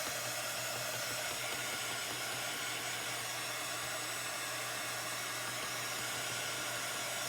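Hair dryer blowing on chalk paint over a wooden shadow box, a steady loud whooshing hiss with a low hum that runs unbroken throughout.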